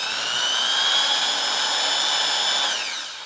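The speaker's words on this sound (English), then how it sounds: "Let the drill bit do the work." A power drill whines at high pitch, boring steadily into scrap wood, then winds down as the motor slows near the end.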